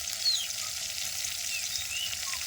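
Leafy greens (shak bhaji) fry in a pan with a steady, close hiss and sizzle, a few faint scraping stirs breaking through, no voices.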